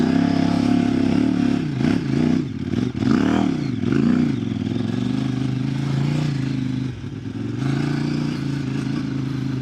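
KOVE 800X Rally motorcycle riding off-road over sand and bumps, engine droning steadily and loud throughout with surging revs, rattling clatter and scraping, no talk.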